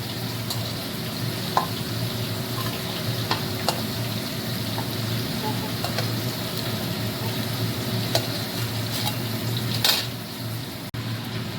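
Fried bitter gourd is lifted out of hot oil, and the oil keeps up a loud, steady sizzle throughout, broken by a few faint clicks and scrapes of a utensil against the pan.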